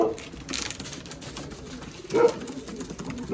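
Pigeons cooing and fluttering nearby in a couple of bursts, with a soft background hiss and no talking.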